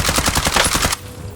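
A rapid, loud burst of automatic gunfire from a shooter video game, rattling steadily for about a second and then cutting off abruptly into quiet background.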